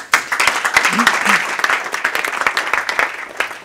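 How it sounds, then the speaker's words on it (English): Audience applause after a talk at a climate change consensus-building session, dense steady clapping from a crowd indoors, loud and sustained, with a brief voice heard over it. "Round of applause."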